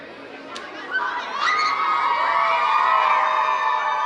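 A large crowd of children sings along and shouts loudly to music playing over a sound system on the 2017 JUNO Awards red carpet, their voices rising and swelling into excited cheering.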